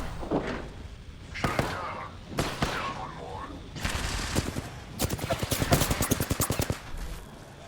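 Charge rifle fire in Apex Legends, with several sharp broadband blasts spaced irregularly, then a rapid rattling burst of shots near the end, fairly close over faint background game noise.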